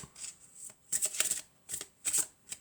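A deck of tarot cards being shuffled by hand: five or six quick riffling bursts close up, separated by short pauses, with no voices.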